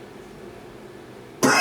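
After a quiet stretch with low room hum, a man gives one sudden, loud, harsh cough at close range at the very end.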